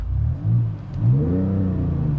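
A 2020 BMW X5 M50d diesel engine revs up with a deep, rumbling growl, the pitch rising and holding steady, heard close and loud with no talking.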